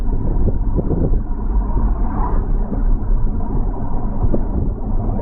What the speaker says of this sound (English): the noise that you're hearing, is just tires